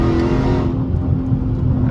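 A loud Dodge Scat Pack car engine, a 392, revving with a deep, roaring tone that holds steady and then eases slightly, close and continuous, at night on small roads.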